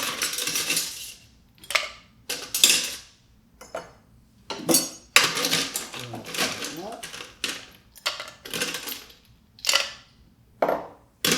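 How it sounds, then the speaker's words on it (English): Ice cubes tumble into a metal cocktail shaker tin in several separate bursts of bright clattering and rattling, with short quiet gaps between them; a person talks at moments. "I'm going to go ahead and add some ice into my shaker tin"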